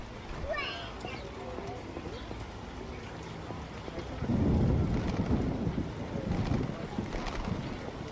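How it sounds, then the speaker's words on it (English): Rain and thunder in The Witcher video game: a steady patter of rain runs throughout, then swells midway into a louder, deeper rumbling roar that carries on to the end. "All the rain."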